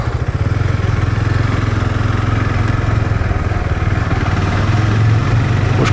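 A KTM 390 Adventure motorcycle runs while being ridden up to the top of a parking deck, its single-cylinder engine a loud, steady throbbing drone that stays close and continuous with no talk.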